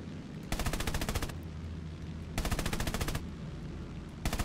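Bursts of .50 cal machine gun fire from an F4U Corsair in War Thunder, three loud rapid volleys of about a second each separated by pauses, over steady engine drone.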